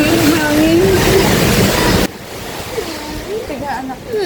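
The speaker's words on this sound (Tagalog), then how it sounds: "Lumalakas po lalo yung hangin." Strong typhoon wind roars loudly against the microphone, then drops to a lower rush with gusts. Worried voices are heard over the storm during a typhoon at home.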